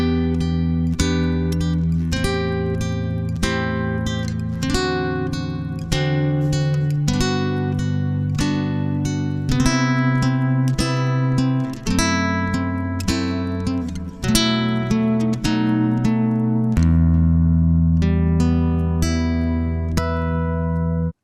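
Classical guitar plays a chord progression with a turnaround, open strings ringing against fretted notes and chiming harmonics, steady picked chords for about twenty seconds, close and clean with no talking.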